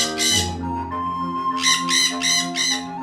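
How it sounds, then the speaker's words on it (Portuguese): Jandaya parakeets give harsh, loud squawks in bursts, one near the start and a rapid series of four toward the end, over a steady background of whistling forest birds. "As jandaias gritam com alegria, pintando o ar com cores vibrantes."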